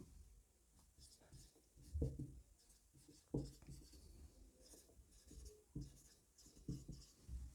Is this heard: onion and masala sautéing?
no